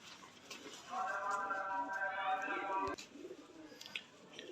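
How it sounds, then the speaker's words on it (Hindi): A pair of original Sialkoti chuha pigeons, male and female, coo close by in a steady, layered run of soft tones lasting about two seconds, then fall quiet amid faint background noise. "माशाल्लाह ओरिजिनल सियालकोटी चूहे कबूतर है ये, और पेयर है ये पूरा"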